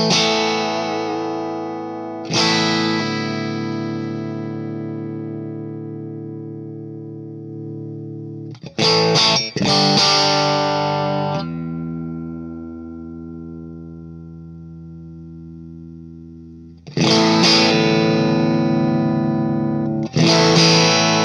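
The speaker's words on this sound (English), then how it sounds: "here is the matchless side, going through the 212 that comes with the head, and it's an open back with Celestian gold" Electric guitar through a Matchless amp head into an open-back 2x12 cab with Celestion Gold speakers, bright distorted chords struck and left to ring out, several separate strums across the passage, no talk.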